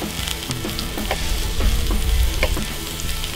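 Onions fry on a hot griddle for smashburgers, a loud dense close crackle and sizzle running steadily with faint scraping ticks, alone without talk.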